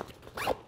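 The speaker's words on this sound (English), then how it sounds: "One thing I really like is just the zippers are all super smooth." Zipper on a Mystery Ranch Stuffel 60-liter duffel bag drawn in one smooth, quick pull, a single soft zip heard up close with no talking.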